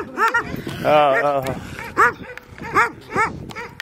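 A dog outdoors gives several short, close barks and yips in quick bursts, with people talking over and between them.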